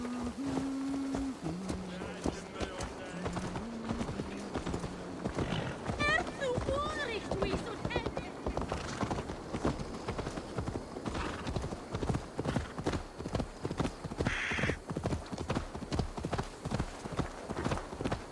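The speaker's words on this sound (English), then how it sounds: "Let's get a horse." Horse hooves clip-clopping in the Assassin's Creed Valhalla video game, a steady rhythmic trot running throughout beneath game music and a talking voice, with a brief whinny-like call.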